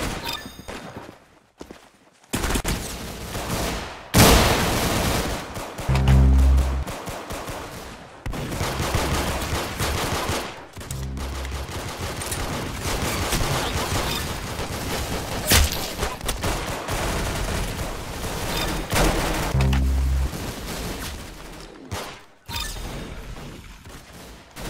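Rapid, sustained gunfire fills the Roblox shooter Arsenal, loud and nearly continuous with heavy thumping bursts and brief lulls, no talking heard.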